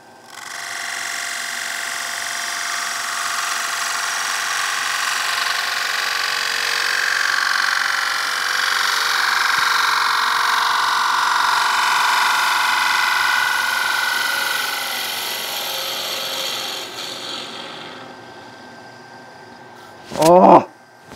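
A wood lathe turns a veneered skateboard piece, giving a steady, loud whirring hum that runs for a long stretch, fades as the speed drops, and ends with a brief sharp knock.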